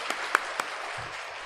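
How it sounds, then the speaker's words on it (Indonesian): Brief applause at a church children's anniversary celebration, a few sharp claps standing out over a soft, diffuse patter from the crowd in a reverberant hall, fading quickly, with no voices. "Kita berikan tepuk tangan."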